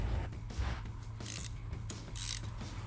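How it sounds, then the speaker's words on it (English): A ratchet loosens the throttle body bolts on a 2011-2014 Mustang in short bursts of rapid clicking, close and fairly loud, with two sharper, brighter ratcheting spells. "a ratchet, and I would recommend some kind of extension"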